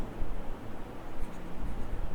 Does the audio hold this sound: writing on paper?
yes